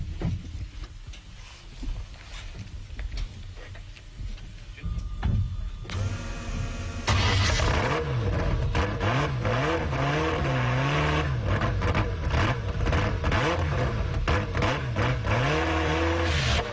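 Ferrari F40 LM race car, a roughly 700 hp lightweight IMSA-spec build, fires up and revs hard, its engine note rising and falling in repeated loud, close blips that settle into a sustained, busy roar.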